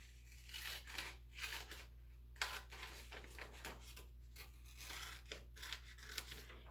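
Scissors cut paper squares for a Sunday school craft, giving repeated crisp snips and rustling crunches in an irregular rhythm, close and soft, with no talk.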